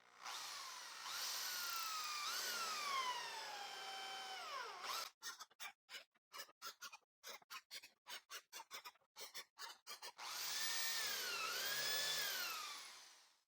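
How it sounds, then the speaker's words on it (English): A power drill with a 3 millimeter bit bores into wood: a whining motor run, then a quick series of short choppy bursts as the bit bites, then another sustained whirring run, close and loud. "all the others will be drilled with a 3 millimeter bit"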